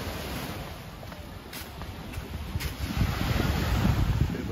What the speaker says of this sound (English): Just have a look at the beach first.